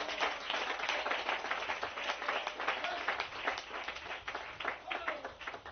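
Church congregation clapping together during a French-language service, a dense, fairly faint wash of many hands clapping steadily throughout.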